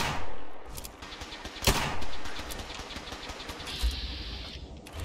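Gunfire in the video game Fallout 4, with repeated shots and bursts over a steady rumbling background, one loud close blast standing out partway through, no talk.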